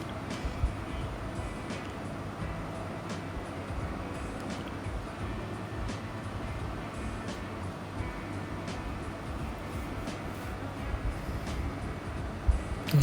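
A metro train runs along an elevated line beside a residential building near Uttara North station in Dhaka. It makes a steady, even rumble throughout with no distinct rise or fade, heard from close by.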